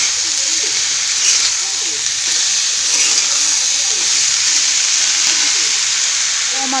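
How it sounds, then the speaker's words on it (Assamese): Ripe chilies and potatoes fry in a pan with a steady, close sizzle and hiss, an even crackle throughout while a voice talks over it. "পকা জলকীয়াকেইটা অকণমান ভাজিম ধুনীয়াকৈ এতিয়া গোটেইখিনি"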